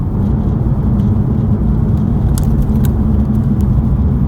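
A 2020 Mercedes-AMG GT R rounds a corner, its engine a steady, loud low rumble heard from inside the cabin, with a few faint light rattles and no one talking.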